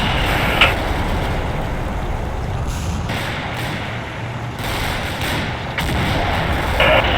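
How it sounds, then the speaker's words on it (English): Artillery fire in the Combat Mission war game: heavy rumbling booms and distant blasts rolling continuously under a constant low roar, with a few sharper impacts standing out. "Artillery fire incoming!"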